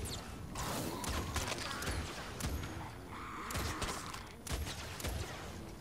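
Basilisk semi-automatic weapon firing in Fortnite Save the World, loud repeated gunshots at a steady measured pace amid busy game effects, with no talking.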